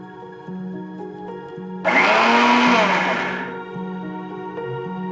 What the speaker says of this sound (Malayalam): ഇനി നമുക്കിത് ഒന്ന് അരച്ചെടുക്കുന്നതിന് മുന്നേ ബാക്കിലോട്ടൊന്ന് പൊടിച്ചെടുക്കണം.